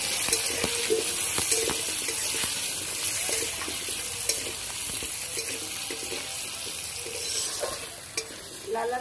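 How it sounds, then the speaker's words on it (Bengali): Potatoes frying in a pan with salt and turmeric give a steady close sizzle, broken by scraping and clinking as a utensil stirs them throughout, with no talking. "লবণ হলুদ দিয়ে ভালো করে আলুটা ভেজে নেব।"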